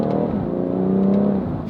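The engine and exhaust of a BMW M140i rise in a short, loud pull from inside the car, with layered harmonics that climb in pitch and then ease off.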